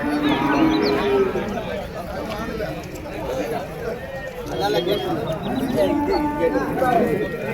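Cattle moo repeatedly amid busy crowd chatter, with people talking throughout at the Vaniyambadi outdoor cattle market.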